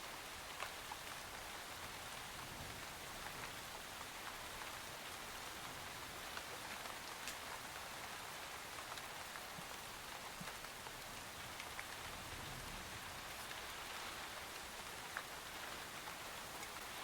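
Steady rainfall in the video game Hungry Lamb, an even, continuous patter of drops on surfaces with no break or voices over it.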